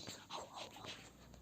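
A dog in the mobile game Toca Life World makes short panting and whimpering sounds, soft and close, repeated in small bursts with no talking.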